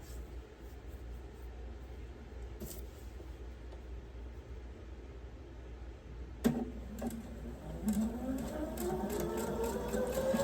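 A sewing machine stitching pieces of a star-block quilt, quiet and continuous with a soft mechanical whir that rises and speeds up toward the end, a few sharp clicks in between.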